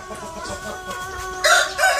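Chickens clucking softly nearby in a coop, then a louder rooster crow breaks in near the end; no voices.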